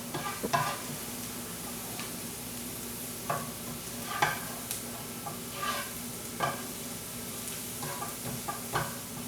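Garlic frying in a pan for pad see ew: a steady, moderate sizzle continues throughout, with several brief scrapes and taps from stirring at irregular intervals.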